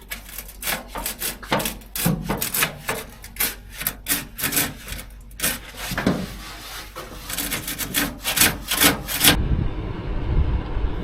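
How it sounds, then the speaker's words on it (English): Bolt threads on an Austin Pathfinder being cleaned with a wire brush during a stripdown, heard as close, rapid back-and-forth scratchy strokes in a steady rhythm that stop near the end, with no talking. "wire brush the threads"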